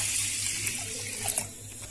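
Water pours into a pressure cooker holding soaked rice, a steady close splashing trickle that rises briefly near the end, with no talking.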